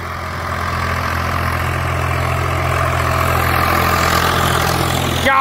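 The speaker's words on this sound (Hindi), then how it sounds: "क्या गजब आवाज है ट्रैक्टर की।" A Swaraj 744 tractor engine running, a steady close diesel rumble with a deep throbbing low end that holds even and loud throughout, with no voices.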